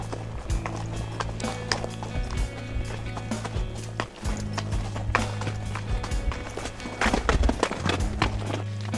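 Horses carrying pack saddles walk along a mountain trail, their hooves clopping on the ground in an uneven, overlapping rhythm, close and clear, with occasional knocks and creaks and a steady low hum underneath.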